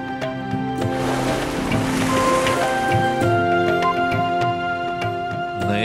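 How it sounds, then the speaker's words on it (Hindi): Sea waves wash in a continuous broad surf that stays under sustained music, with no voices. "ये देखना समंदर की लहरें।"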